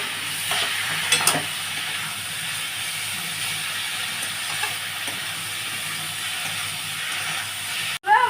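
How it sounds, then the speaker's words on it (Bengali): Boiled mushrooms stirred as they fry in a pan, giving a steady broadband sizzle and hiss throughout with a few soft scraping knocks, close and continuous with no talking. "এই যে দেখুন সেদ্ধ করা যে আমার মাশরুমগুলো আছে, দিয়ে দিচ্ছি এর মধ্যে। আচ্ছা, এবারে আমি নাড়বো এটা।"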